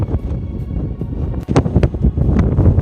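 Strong gusty wind on Franconia Ridge in the White Mountains roars and buffets the microphone up close in uneven bursts, with no pause.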